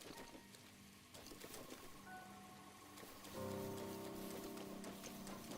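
Rain falls in Breath of the Wild as a steady, dense patter on surfaces that swells louder midway through, with no talking.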